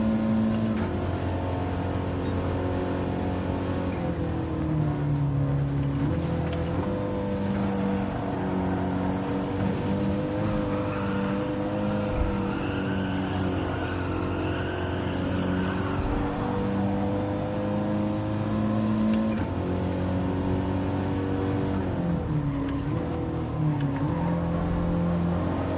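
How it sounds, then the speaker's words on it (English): A racing car engine in a racing video game drones steadily and loudly, its pitch climbing and dropping as it upshifts repeatedly through the gears over about twenty-five seconds. "if you listen to the way I drive, my car is, I always drive it very quietly, a lot of upshifting"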